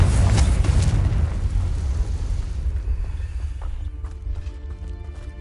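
A Confringo blasting spell goes off in the Hogwarts Legacy video game with a loud, deep explosive boom that rumbles and slowly fades over a few seconds, with no talking.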